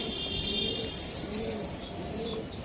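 A male Tiger-breed racer pigeon coos softly at close range, producing low, steady murmuring with faint higher chirps against quiet background noise.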